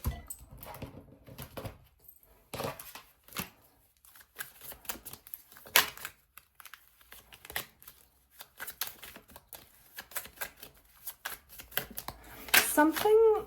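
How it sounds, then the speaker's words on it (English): Oracle cards being shuffled by hand during a tarot reading, a quick run of soft papery riffles and taps, fairly faint and close, with light rustling between bursts. "let's pull your oracle cards"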